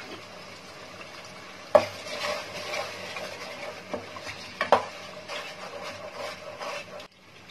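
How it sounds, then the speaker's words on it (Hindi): Masala spice paste with salt being fried and stirred in a pan for Thai red curry, a steady close sizzle with scraping spoon strokes and two sharp knocks against the pan, no talking. "मसाला डाल के नमक डाल देंगे और मसाला को दो तीन मिनट भूनेंगे"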